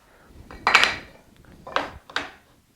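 Small metal bolt slid through a woodworking fence and screwed into place on a Super Chute 2.0 jig: three short clicking, clattering knocks, one near and louder followed by two lighter ones, close up with no talk.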